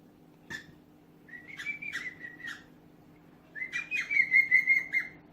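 A pet cockatiel whistles nearby in two phrases, a short warbling run and then a longer, louder trilling whistle, over a low steady hum.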